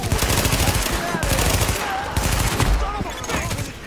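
Weapons fire nonstop in the shooter The Division, with dense, loud automatic bursts and rapid shots blending into a continuous barrage for several seconds.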